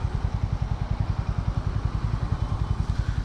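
A 2024 Hero Mavrick 440 motorcycle idles close by, its engine thumping in a fast, even, steady rhythm.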